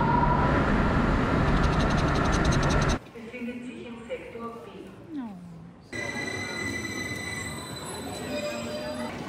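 Train at a station in Austria, a loud rumbling hiss with wheel squeal, broken by a quieter stretch where a voice and other voices are heard, then the loud rail noise returns.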